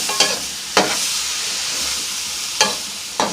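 Vegetables with peas and potato frying lightly in a pan for macaroni, a steady close sizzle with a few sharp stirring scrapes standing out above it.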